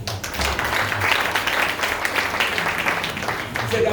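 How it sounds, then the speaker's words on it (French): A church congregation applauds steadily and fairly loudly, a dense continuous patter of clapping across the whole stretch with some voices mixed in. "Acclamez pour eux."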